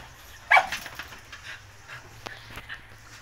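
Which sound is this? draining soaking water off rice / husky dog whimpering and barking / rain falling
husky dog whimpering and barking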